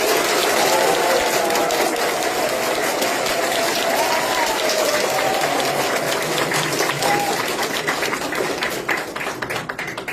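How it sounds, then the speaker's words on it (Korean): An audience at the opening ceremony of a county election campaign office in Yeonggwang, South Korea, applauds in a loud, sustained round that thins slightly at the end, with a few voices calling out over it. "여러분의 힘찬 박수와 함께 시작하겠습니다"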